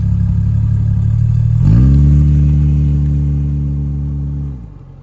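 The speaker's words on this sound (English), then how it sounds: "fills the cabin with a nice little exhaust note as well. We'll let everything warm up" Jaguar E-Type Series 1.5 2+2 engine warming up, a loud steady idle that rises into a brief throttle blip, then holds a smooth drone before settling back down near the end.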